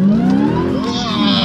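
A car engine revs hard close by, its pitch climbing and sliding in smooth sweeps over a thick, steady drone for about a second and a half.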